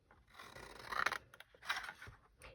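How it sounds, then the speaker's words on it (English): Long scissors snip through milk carton cardboard along a score line in a few crisp, rasping cuts, close and fairly quiet, with no talking. "If you've got a long pair of scissors like this, you can do it all in one go."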